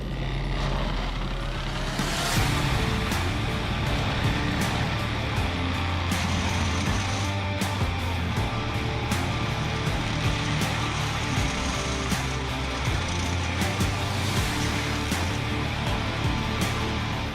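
A Kubota Splan 95 2s stump grinder chews through a tree stump with a loud, steady engine drone and a continuous rough grinding roar that holds for the whole stretch, without pauses or voices.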